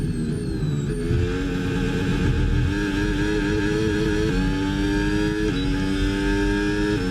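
An F1 race car engine in the F1 26 game at the Singapore circuit, a loud, steady high-pitched whine that stays constant with several sharp stepped gear shifts, close and alone.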